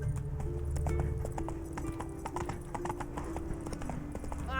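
Roach, a horse in The Witcher video game, gallops with rapid rhythmic clip-clop hoofbeats close up, over game background sound and music.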